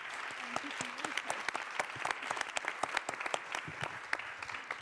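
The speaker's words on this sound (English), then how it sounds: "A big clap for our audience." Audience applause at the close of a finance roundtable session, many hands clapping in a room, moderately loud and fairly steady, with some voices mixed in.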